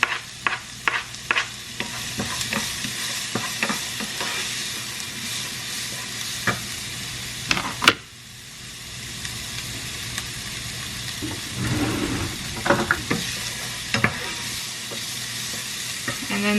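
Onions sautéing in oil with garlic for baked ziti, a continuous close sizzle with frequent sharp utensil clicks and stirring scrapes, a brief lull midway before the frying noise swells again.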